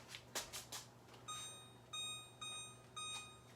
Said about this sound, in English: let's put on the timer.